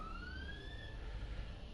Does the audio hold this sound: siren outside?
yes